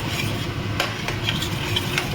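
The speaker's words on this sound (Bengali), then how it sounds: "এখন আমি দইটা দিয়ে দিলাম।" A spoon stirs yogurt into sizzling fried spice masala in a pan, with a continuous low sizzle under scraping strokes and a few sharp metallic clinks of utensil against pan; no voices.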